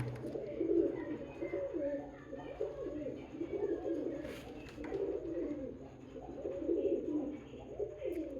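Young domestic pigeons coo in a steady series of low, rolling bursts, repeating roughly every second or two at close range.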